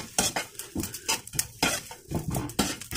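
Food is sautéed in a pan on a stove turned to low, with a quick, repeated scrape and clatter of a metal spatula against the pan over a faint sizzle, close and busy, with no voices.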